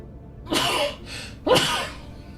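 Two close, fairly loud sneezes about a second apart, each a sharp breathy burst with a softer breath between them, heard with no talking, during a multiplayer Stellaris game.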